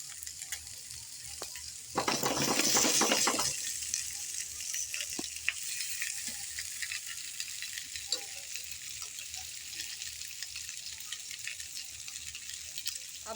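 Chicken tikka pieces fry in hot oil in a pan, with a loud burst of sizzling and stirring early on, then a quieter continuous crackle and hiss.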